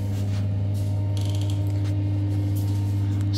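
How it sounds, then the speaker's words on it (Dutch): A ventilation fan runs in a small holiday washroom with toilet and shower, giving a steady, continuous low hum with faint mechanical creaking throughout and no voices. "Het is de ventilator die je hoort."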